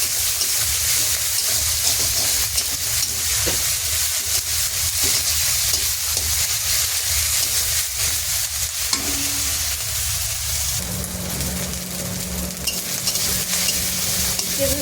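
Garlic, ginger and cumin pastes with green chilli are stirred in a pan with a steady sizzle and a close, rhythmic scraping of the spoon; toward the end the stirring stops and a low hum remains.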